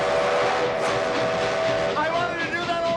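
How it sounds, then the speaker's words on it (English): Steam train whistle blowing close and loud, a sustained sharp tone that wavers and rises near the end, layered over rumbling train noise. "Echoing Doc Brown's own gleeful whistle pull."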